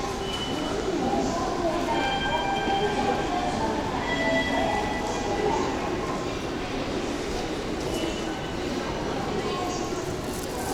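Train running on rails in Japan, a steady broad rumble of wheels with faint squealing tones carrying through throughout, heard from inside the carriage with voices murmuring in the background.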